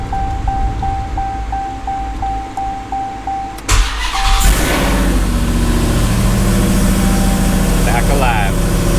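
A Hellcat-swapped Dodge Dakota cranks over, then its engine catches and settles into a loud, rough idle close by, preceded by a steady repeating warning chime, with a voice speaking over it.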